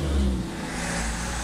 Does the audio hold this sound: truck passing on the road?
yes